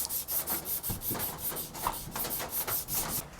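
Back-and-forth sandpaper strokes rasp over a wooden electric guitar headstock at 240 grit, a steady rhythm of close, even scratchy rubs repeating several times a second.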